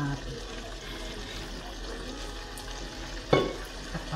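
Pork adobo with eggs cooking in a pan gives off a steady low sizzle and bubbling, close by, with one brief clatter of a utensil partway through.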